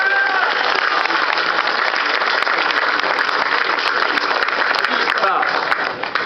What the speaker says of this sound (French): Applaudissez Chantal.